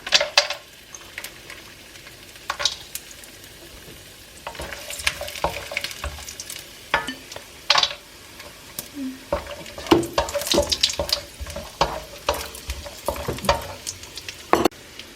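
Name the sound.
nuts frying in the pan while making carrot halwa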